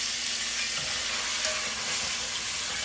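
Chuck pot roast searing in a hot pan gives a constant, even close-up sizzle and hiss with no voices over it.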